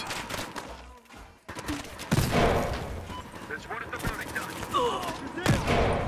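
Gunfire in the shooter game Battlefield Hardline, rapid bursts and single shots crackling over several seconds, loud and busy, mixed with in-game noise and overlapping speech.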